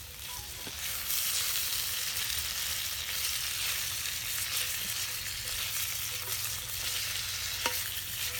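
Bacon frying in a hot pan while potatoes are being cooked: a steady, close, dense sizzle and crackle that holds evenly throughout, with no talking.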